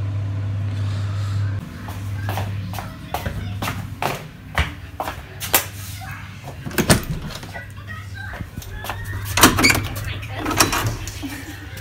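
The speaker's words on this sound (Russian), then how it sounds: "могут начать стучаться в дверь" Someone knocks on a door in a home kitchen where mushrooms are cooking: a string of sharp, irregular raps over a steady low hum and faint background sounds.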